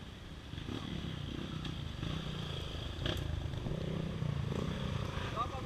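A trail motorcycle rides at an off-road riders' gathering in Anitápolis, its engine a faint, rough rumble with some clatter, heard under people talking.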